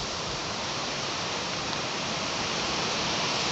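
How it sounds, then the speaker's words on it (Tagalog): Steady, loud broadband wind rush outdoors at a roadside while someone waits for a taxi, a constant roar filling the whole clip with no pauses or voices. "So windy."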